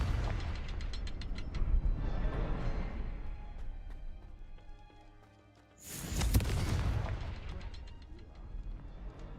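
A Confringo fire spell blasting in the video game Hogwarts Legacy: one booming, broadband burst partway through, set among quieter game ambience and mechanical clicks and clatter.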